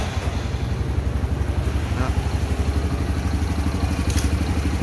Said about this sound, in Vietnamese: Rồi sau khi xe nó đã kiểm tra xong thì mình đề máy nè.